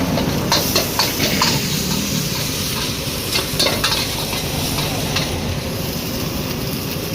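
A pan of chicken with ginger garlic paste, cabbage and carrot is stirred briskly over heat for chicken noodles. A loud, steady sizzle sits close by and is broken by scraping strokes, with no speech.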